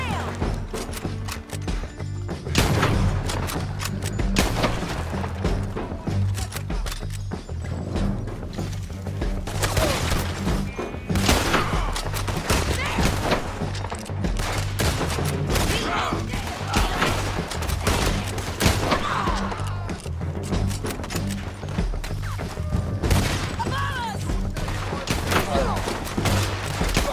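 Sustained gunfire from a Red Dead Redemption 2 shootout, dense volleys of shots and clattering mechanical noises running the whole length at steady loudness, with game voices speaking over the fighting.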